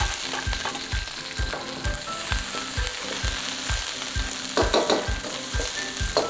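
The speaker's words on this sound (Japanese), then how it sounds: "結構ピーマンしんなりするまでね、これ炒めます。" Sliced green peppers stir-fry in a wok for a spicy pork and pepper dish, a loud, steady sizzle punctuated by rhythmic scraping and tossing beats, with no voices.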